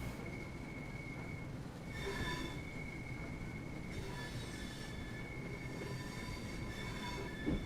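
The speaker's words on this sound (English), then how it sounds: "got a bit of wheel slipping there, a little bit of traction loss" A Class 465 Networker electric multiple unit on Southeastern high-speed lines in Train Sim World 2 loses traction, its wheels squealing in sustained high tones that rise and fade over a steady rolling rumble, with no talk.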